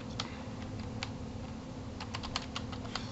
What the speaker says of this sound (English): I typed something in chat and it said it.